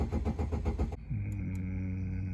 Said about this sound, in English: Let's see if we can start this car.